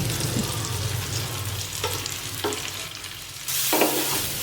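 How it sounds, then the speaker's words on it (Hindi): Stuffed okra and onion stir-fried in hot vegetable oil, a continuous close sizzle with gentle stirring scrapes, swelling louder near the end, no speech. "भिंडी प्याज सबको एक साथ डाल देंगे। इसे हम हल्के हाथों से 1-2 बार चलाएंगे।"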